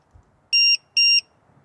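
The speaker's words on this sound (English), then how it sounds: "see if that LiPo alarm" Two short, sharp electronic beeps from a LiPo battery voltage alarm as it is connected to the pack, loud and close in a quiet room.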